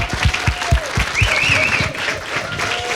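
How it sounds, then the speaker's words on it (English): Audience applause at a political breakfast event, a dense, steady burst of clapping from a crowd filling the room, with some talking underneath. "Let's give them one more round of applause."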